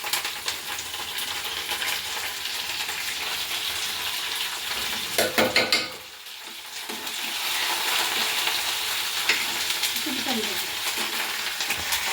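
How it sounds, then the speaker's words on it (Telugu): Spices for a tempering sizzle loudly in hot oil in a pan in a village home kitchen. The crackling hiss runs steadily, dips briefly midway, then resumes at full strength. "తాలింపు అయితే పెట్టేస్తున్నాను"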